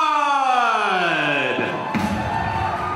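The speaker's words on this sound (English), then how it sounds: "I want a big applause for the Ant-Man himself, our Marvel superhero, Mr. Paul Rudd" Studio audience cheering and whooping for Paul Rudd, Ant-Man star, as he is brought on stage, a loud crowd roar with shouts that swell and then settle into steady cheering.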